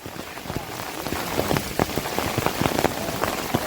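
Heavy rain falls during a mountain trek in Ratnagiri, a constant rushing hiss with sharp droplet taps striking nearby surfaces and rain gear, loud and unbroken with no voices.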